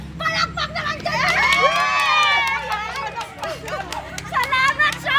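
Crowd of adults and children cheering and shouting excitedly for a surprise revealed from an SUV trunk in Dupac, Asingan, Pangasinan, a loud, continuous roar of voices with rising shrieks.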